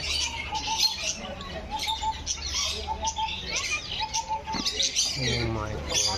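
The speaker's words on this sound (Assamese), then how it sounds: "যি ফ্ৰেছ চিট লাভ বাৰ্ড এইবোৰ লাভ বাৰ্ড" Lovebirds chirp and tweet in quick, repeated high-pitched bursts, close by, with some background rustling, at a zoo.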